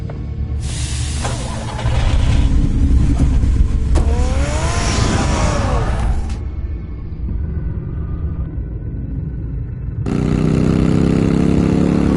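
A car engine in the Batman Telltale Series video game, a steady rumbling idle that swells into revving and acceleration with broad roar, then drops back to a lower drone before surging loud again near the end; no talking.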